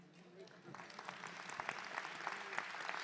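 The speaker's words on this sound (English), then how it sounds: "Wherever you are, Fred, we're going to applaud you from here." An audience at a trade show lunch breaks into applause after a near-silent start, and the clapping builds to a steady, moderately loud patter that runs to the end.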